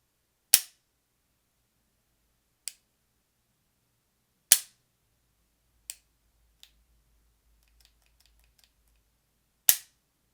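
A Beretta 92XI pistol trigger is dry-clicked through its reset, producing a handful of sharp, isolated metallic clicks spaced a second or two apart in near silence, with faint tiny ticks between.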